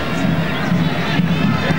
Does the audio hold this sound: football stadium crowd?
yes